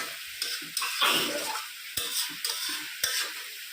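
Deshi chicken meat is sautéed in a pan, with a continuous close sizzle and repeated scraping and clinking stirring strokes.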